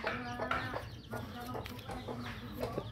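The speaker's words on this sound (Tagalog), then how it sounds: "Oh, meron silang Rhode Island Red." Rhode Island Red chickens clucking close by, a series of short throaty calls and a few drawn-out squawks over a low background hum.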